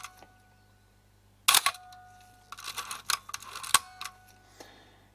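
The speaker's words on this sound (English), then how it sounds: "press the shutter button, and it will happily fire as it should." A Mamiya 645 Pro medium-format camera, serviced for a shutter fault from a dirty magnet or solenoid, fires its shutter in one sharp mechanical clack, followed by smaller clicks and whirring winder sounds, close and alone in a quiet room.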